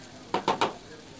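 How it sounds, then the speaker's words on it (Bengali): Chickpea curry being stirred and fried in a pan, heard as three quick scraping strokes close together, then quiet. "তো এটা আমি এই পর্যায়ে ভালোভাবে নেড়ে চেড়ে মিশিয়ে নিচ্ছি আর কষিয়ে নিচ্ছি।"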